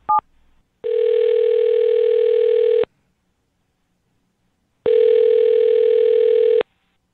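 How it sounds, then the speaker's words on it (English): A landline telephone call: a brief dialing beep, then two long steady dial-tone-like ringback tones separated by a silent gap, loud and clear with no voices. "I'm going to dial her phone number right now."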